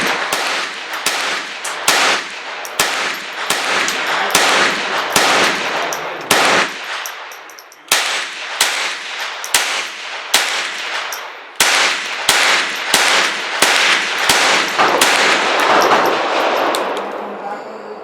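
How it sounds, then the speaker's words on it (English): Rapid-fire gunshots from a GSG-16 rifle with a 9-inch barrel shooting Remington Golden Bullet .22 LR rounds outdoors at a range. Sharp cracks come quickly and loud in repeated bursts broken by short pauses, close to the listener. "Remington Golden Bullet through GSG-16, 9-inch barrel, rapid fire."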